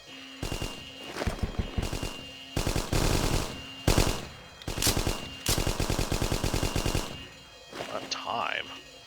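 Submachine gun fire in a co-op shooter video game: repeated rapid bursts, several separate volleys of fast automatic shots close and loud, with short gaps between them and a brief voice near the end.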